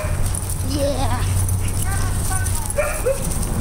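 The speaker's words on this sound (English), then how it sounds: "He thinks he's a big dog." A dog gives short, rising yips and whimpers that are partly buried under a loud, steady background roar, while a person talks nearby.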